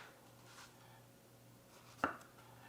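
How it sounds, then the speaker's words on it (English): A single sharp knife chop through zucchini onto a cutting board, one brief crisp impact over a quiet room hum. "and then you can go ahead and slice them up this way, like maybe like 1/2 inch"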